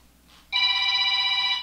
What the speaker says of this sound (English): that is a rude phone call. Can you hear that shit?